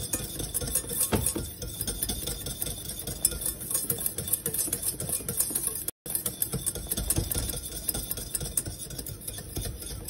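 A whisk or spoon stirs thickening pastry cream in a pan over heat, giving a continuous rapid scraping and sloshing with faint metallic clinks, close and steady apart from a brief break.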